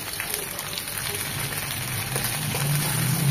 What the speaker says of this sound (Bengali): জাস্ট এই তেলে একটু হালকা করে ভেজে নেব আলু আর সিম।